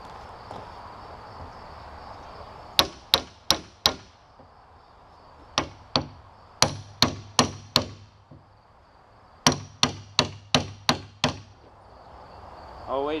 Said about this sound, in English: I'm gonna punch this down with a hammer here